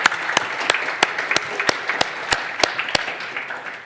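Audience applause fills the room at a hackathon opening event, steady dense clapping with sharper individual claps standing out, sustained at an even level throughout.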